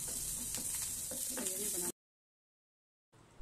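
Green chillies and curry leaves sautéing in hot oil with cumin in a pan: a steady close sizzle with light stirring clicks that cuts off abruptly into silence, then returns briefly.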